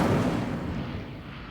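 A short, loud burst of flame from an Incendio fire spell in Hogwarts Legacy, a dense roaring whoosh that decays quickly.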